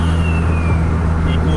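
A car runs flat out on a straight stretch of road, its engine a loud, steady close drone with a rising whine and constant wind rush.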